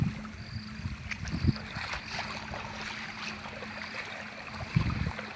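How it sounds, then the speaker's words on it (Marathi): A stream of water flows steadily outdoors near a well, a soft continuous rush with occasional splashes, heard at moderate distance and fairly quiet. "बघा एवढं पाणी वाहू राहिलं"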